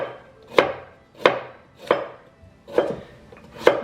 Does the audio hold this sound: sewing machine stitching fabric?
no